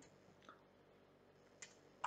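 A computer mouse clicks a few times, quietly and sparsely, over a faint hushed room background.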